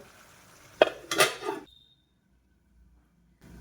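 A lid is set over a pot of meat while it cooks. A short metallic clatter and clink comes up close, then a faint ringing tail, followed by near silence.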